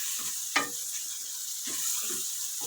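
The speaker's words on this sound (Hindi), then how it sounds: "इसको अच्छी तरह भून लें" Chicken frying for a white karahi, a soft steady sizzle with a few scraping stirs and one sharp clank of the spoon against the pan, faint and close with no voices.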